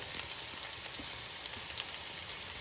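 Onions frying in hot olive oil in a pan, a steady soft crackling sizzle with scattered pops, fairly quiet and close, with no talk over it.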